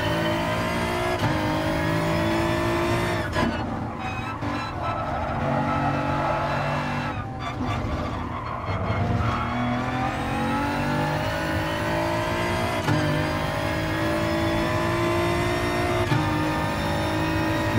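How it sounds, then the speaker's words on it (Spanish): A BMW race car's engine roars continuously through a lap in Gran Turismo Sport, revving up and down with gear changes and faint tire scrubs through the corners. "Venga, empezamos vuelta con el BMW."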